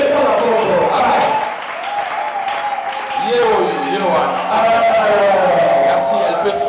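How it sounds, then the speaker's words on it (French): Church congregation applauding and cheering for the preacher's wife at a special weekend service, a steady wash of clapping and voices lasting throughout with tonal shouts rising over it, loud and close. "il faut acclamer. Acclamer bien pour elle."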